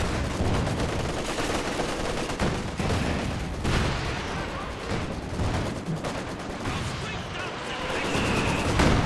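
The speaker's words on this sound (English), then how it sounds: "Oh, Katyusha into this corner." A Katyusha rocket artillery barrage in Company of Heroes 2 rolls through as a dense stretch of crackling bursts, rumbling impacts and gunfire, loud and continuous across the scene.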